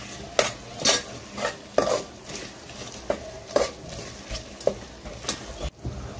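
Whole spices being stirred into a paneer masala gravy with a spoon, making a run of sharp, evenly spaced scraping and clinking strokes against the pan, close and fairly quiet, with no voices.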